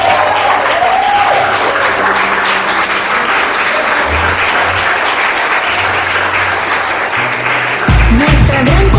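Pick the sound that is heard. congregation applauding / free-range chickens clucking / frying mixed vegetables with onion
congregation applauding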